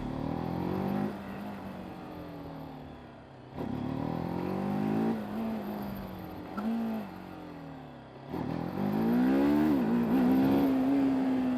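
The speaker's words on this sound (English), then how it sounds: "I'm going to whack the throttle open." TVS Apache RTR 310 motorcycle ridden on tarmac with the throttle opened hard, the engine note rising through several pulls with brief dips between gear changes, loud and close, with wind rush and no talk.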